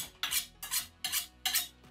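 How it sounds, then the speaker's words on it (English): A sharp knife chops through peppers and onion on a kitchen board, giving four crisp, evenly spaced cuts up close. "Nothing better than a sharp knife when you're working in the kitchen."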